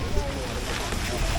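Wind buffets the microphone on a rainy day by Lost Lagoon in Stanley Park, a constant close roar of broadband rushing noise with no clear pauses.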